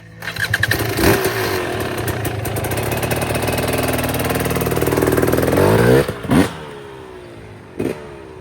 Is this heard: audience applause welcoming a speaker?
no